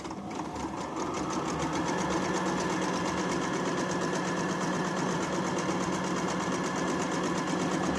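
Brother mini A25 sewing machine stitching, a steady fast mechanical whirring and clatter running continuously and close, alone without talk.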